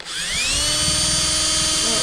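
A drill bores a hole through a part of a Stover Duro 1/2 H.P. upright air-cooled engine, giving a steady, loud high-pitched whine that holds constant with no talk over it.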